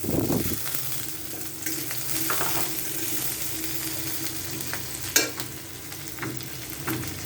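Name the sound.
onions frying with chopped green chillies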